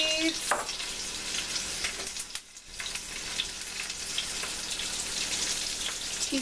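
Cumin seeds sizzle in a hot pan with a steady, bright crackle heard up close, broken by a short dip and a few light stirring knocks.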